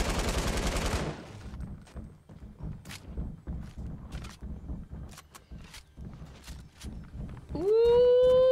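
Rapid Fortnite gunfire cracks out in a series of sharp, separated shots after a dense opening burst, ending with a rising electronic tone; no talk over it.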